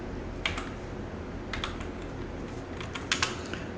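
Quiet bursts of computer keyboard keystrokes as a password is typed, short clusters of clicks separated by pauses over a faint background hum.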